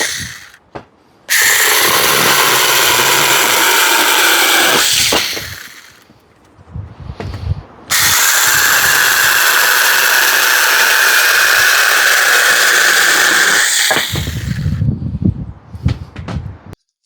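A cheap SEESII 6 mini chainsaw cuts into wood in two long, loud bursts of steady motor whine, each ending as the blade gets through, with short quieter pauses and clatter between them.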